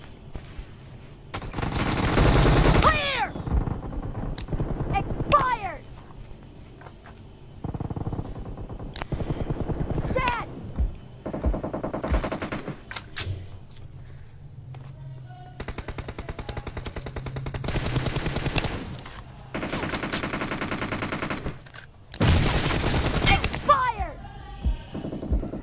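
Automatic gunfire from a UG gun in the shooter BGMI, several loud rapid bursts of shots separated by pauses, with someone talking in between and a low engine hum in the background.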